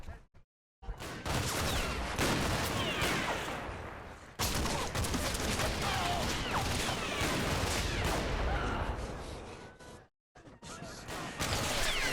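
Sustained machine gun or MP40 bursts in the WWII strategy game Combat Mission: Battle for Normandy, dense rapid volleys of gunfire mixed with battle noise, broken by brief silences.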